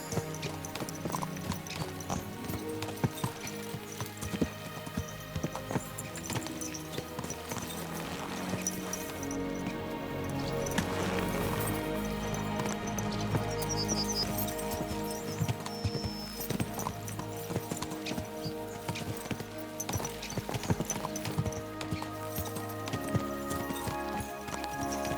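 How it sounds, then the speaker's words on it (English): Horses galloping in the medieval game Kingdom Come: Deliverance II, a steady rapid clip-clop of hooves with occasional whinnies over a continuous orchestral music bed throughout. "Let's really spur these horses on, eh?"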